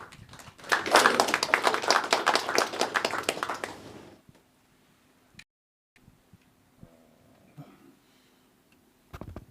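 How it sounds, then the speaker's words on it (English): Audience applause for a speaker at a foreign-policy talk, a dense burst of clapping lasting about three seconds before fading into quiet room noise with a few scattered knocks. "please give him a good round of applause"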